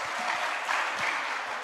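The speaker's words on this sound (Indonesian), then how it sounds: "Mohon aplaus untuk mereka juga." Audience applause at a TIENS Indonesia event, a dense, steady wash of many hands clapping that carries on unbroken through the short stretch.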